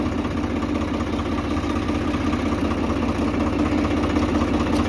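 A tractor used for ploughing a field runs steadily at idle, producing a continuous low, even engine rumble with no breaks or speech.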